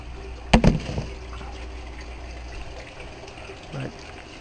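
Water pouring through a paint strainer into a 400 micron filter, a steady low rush with a brief loud splash near the start and a softer gurgle later.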